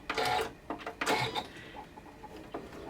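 A sewing machine stitches slowly along the edge of a bodice dart in short, uneven bursts of close mechanical whirring, each separated by brief pauses.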